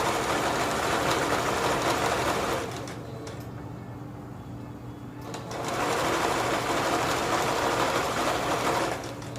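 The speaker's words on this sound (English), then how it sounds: "And I'm just stitching around." A sewing machine stitches around a fleece heart in two steady, continuous runs of rapid mechanical whirring, separated by a short quieter pause, close and alone with no talking.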